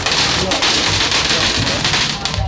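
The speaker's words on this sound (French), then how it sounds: "Il se met vraiment à pleuvoir maintenant" Steady rain falls loud and close during an outdoor Swiss festival with fireworks going off, a dense continuous patter filling the whole stretch with no pauses.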